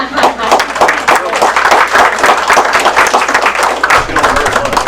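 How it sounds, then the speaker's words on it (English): An audience at a board meeting gives a round of applause, a dense, fairly loud clatter of many hands lasting several seconds, with some voices mixed in. "Let's give them a round of applause"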